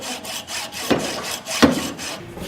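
A coping saw cuts through a piece of ivory while the outline of a whale's tail is shaped, giving steady close rasping strokes with two sharper accented pulls.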